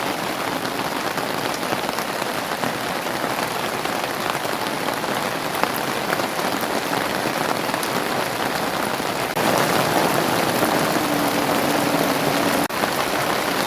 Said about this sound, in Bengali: দেখুন বন্ধুরা, কত জোরে বৃষ্টি পড়ছে।